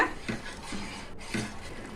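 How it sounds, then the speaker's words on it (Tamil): Quiet scraping of a spoon stirring sugar and water in a pot, a few slow sweeps with soft metallic clinks. "நல்லா கலந்து விட்டுக்கலாங்க"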